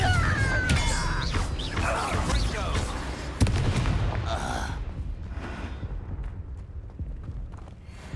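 Confringo fire spell cast in the Hogwarts Legacy video game, with a sharp blast near the middle amid whooshing magical effects and combat noise, followed by a fading rumble.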